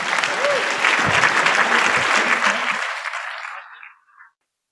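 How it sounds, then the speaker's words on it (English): Loud, close applause from a luncheon audience after a presentation on Air Canada, with some voices mixed in, fading out and ending abruptly after about four seconds. "Let's give Michael a round of applause"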